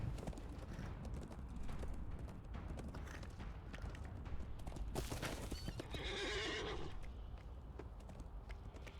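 Horse hooves clip-clop steadily while a horse gives a loud, bright whinny near the end, with other game effects, all from Lord of the Rings Online gameplay at Minas Morgul.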